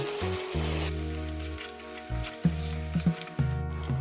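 Cluster beans masala sizzling in oil in a pan for a dried-fish curry, a steady hiss with a spoon stirring and scraping in several short strokes near the end, close and alone, while a low steady hum runs underneath.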